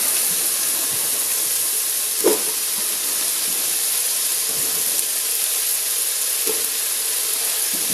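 Garlic and bell peppers sizzle steadily in a hot pan for chilli con carne, a continuous bright hiss with a couple of faint clicks of a utensil, no voices.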